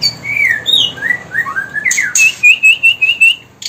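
A caged songbird kept for breeding chirps and whistles in quick, sweeping phrases, close and loud, then finishes with a run of rapid, evenly spaced tweets.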